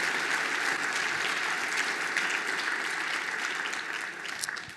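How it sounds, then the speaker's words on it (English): Conference audience applause, a full crowd clapping steadily and loudly, thinning slightly toward the end. "So what I'd like you to do is join me in a round of applause for Brian London and the staff of this fine"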